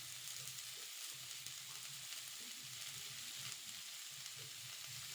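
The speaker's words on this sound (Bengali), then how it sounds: "5 থেকে 7 মিনিট এভাবে এঁচোড়টাকে নাড়াচাড়া করে ভেজে নিতে হবে।" Boiled jackfruit fries in mustard oil with turmeric, giving a continuous soft sizzle with faint stirring scrapes, close but quiet.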